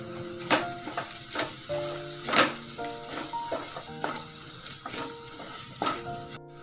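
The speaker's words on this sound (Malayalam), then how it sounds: "കാശ്മീരി ചില്ലി, അതുപോലെ കുരുമുളക് പൊടി, മഞ്ഞപ്പൊടി ഇതെല്ലാം കൂടിയിട്ട് ആഡ് ചെയ്തിട്ട് ഒന്നുകൂടി നന്നായിട്ട് മിക്സ് ചെയ്ത്" A spice mixture of Kashmiri chilli, black pepper and turmeric fries in a pan for Kerala-style karimeen pollichathu, a continuous sizzle broken by repeated scraping stir strokes at a moderate distance.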